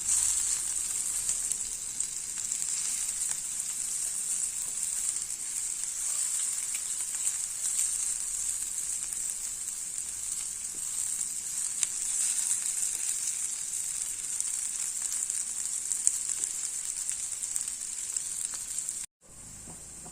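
Taro (seppankizhangu) roast fries in a pan with a loud, continuous, close sizzle that holds steady for the whole stretch, broken only by a brief cut near the end.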